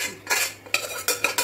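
Spoon or ladle stirring dal and mutton gravy together in a pot for mutton paruppu kulambu, several close scraping clinks against the pot over a low background hum.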